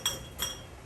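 Hot glass jelly jars of wild sumac berry jelly are set down on a cooling rack, giving two faint, separate glassy clinks about a third of a second apart in a quiet room.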